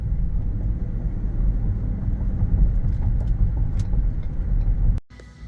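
A 2016 Lincoln Navigator Select driving, with a steady low road rumble and engine hum from inside the cabin that cuts off abruptly near the end.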